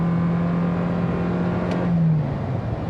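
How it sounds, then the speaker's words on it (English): A 2023 Toyota Corolla Cross Hybrid XSE, all-wheel drive in sport mode, launches hard from a brake-torqued start with its tires spinning; the engine drone is loud and steady with a rising whine throughout. "We'll brake torque it. It actually spins the tires."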